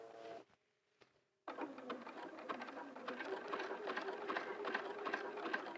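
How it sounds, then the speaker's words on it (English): A domestic sewing machine zigzag stitching a hat runs in a fast, steady mechanical whir after a brief pause, close and moderately quiet, with faint rhythmic clicks. "So now I'm just going to start zigzagging right at that middle piece."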